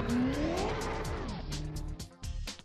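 A BMW race car in the Assetto Corsa video game revs and races around a dirt track, engine note rising then dropping, with tire noise and rapid clattering bursts toward the end.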